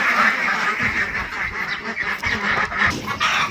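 Ducks quack steadily and loudly while feeding on azolla, with goose-like honks mixed into a dense, continuous chorus of birds close by and no talk.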